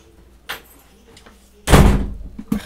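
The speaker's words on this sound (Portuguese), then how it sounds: "Deixa eu fechar a porta aqui." A door is shut with a single loud slam and a short rattling thud at close range, preceded by a faint bump and followed by a couple of small knocks as it settles.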